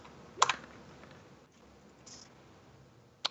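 A few sharp keystrokes tap on a computer keyboard in a quiet room: a quick cluster of clicks near the start, a faint tap in the middle and one more click at the end.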